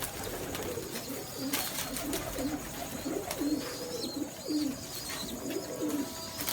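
Many pigeons coo in a breeding loft, a low rolling chorus of repeated throaty coos against a steady background hum, with a few faint chirps above.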